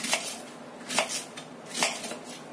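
Knife chopping shallots on a board for everyday home cooking, three distinct sharp strikes spaced about a second apart, close and moderately loud over a quiet kitchen background.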